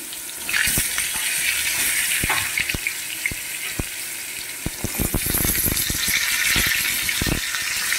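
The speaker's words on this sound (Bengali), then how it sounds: "এবার পটলগুলো, সমস্ত পটলগুলো আমি একে একে দিয়ে দিচ্ছি, দিয়ে ভেজে নেব পটলগুলো" Pointed gourd (potol) pieces dropped into hot oil in a wok, giving a loud, constant sizzle with scattered pops and spatters, close and without talk.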